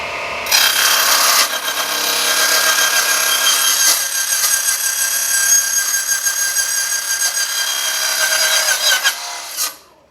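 TICHOP DC-9913 metal cutting saw running at 2000 rpm as it cuts through metal: a loud, steady, bright grinding whine that holds for about nine seconds and then winds down at the end, with no talking.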